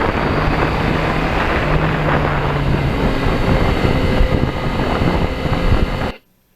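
Wind roars loud and constant around a Yamaha MT-09 motorcycle at riding speed, with no talk, before cutting off abruptly at the end.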